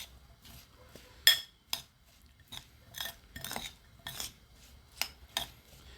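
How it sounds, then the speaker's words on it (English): Salsa of onion, tomato and jalapeno with salt being stirred in a bowl, with a series of irregular scraping and clinking strokes of a utensil, close and quiet, separated by short pauses. "And then we can start stirring it, okay?"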